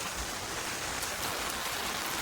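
Steady, dense rainfall in the Amazon jungle hisses evenly over the whole stretch, a soft continuous patter with no voices or other sounds standing out.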